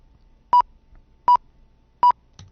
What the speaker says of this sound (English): It's just a beep.